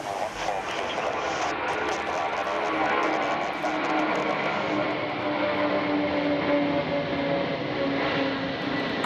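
The engines of an Antonov An-225 cargo plane, a former military aircraft, roar steadily during takeoff, a dense, continuous broadband drone heard from inside the aircraft at a constant level.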